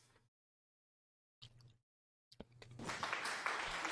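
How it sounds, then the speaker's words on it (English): Applause swells in after a couple of brief bursts, building into steady, dense clapping that fills the last second and a half. "Thank you for the applause."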